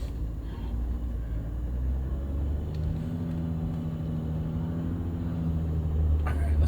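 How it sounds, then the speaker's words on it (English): An off-road vehicle reverses slowly up a narrow dirt trail in Utah, giving a steady low engine rumble that carries on without a break, close and fairly loud, with no talking. "So I've got to back up this trail because there's only one way in"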